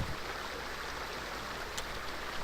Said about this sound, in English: Damn waterfall.